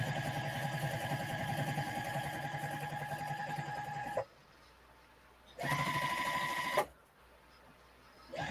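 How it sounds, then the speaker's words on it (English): A sewing machine stitches a seam down the center of a quilt, running steadily for about four seconds, pausing, then making two shorter bursts with near-silent gaps between them. "I'm going to stitch a stitch in the middle."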